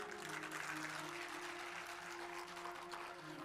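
A religious discourse audience claps faintly and steadily for a few seconds, with a soft continuous patter of hands over a low electrical hum and no talking.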